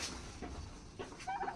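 A very large turkey at a market, weighing around 7 to 10 kilograms, gives a short gobbling call over a faint, noisy background, with a brief burst of higher warbling near the end.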